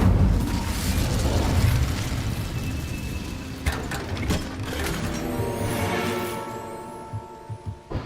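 An Incendio fire spell cast in Hogwarts Legacy: a rumbling, crackling burst of flame with mechanical clicks and pops, settling into a fainter whoosh and scattered small crackles toward the end.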